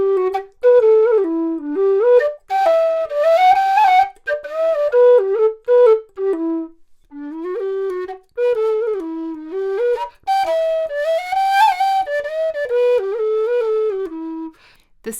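A bamboo whistle plays a slow melody in its low octave, warm and reedy, with sustained breathy notes and brief pauses between phrases, close and fairly loud, alone without talk.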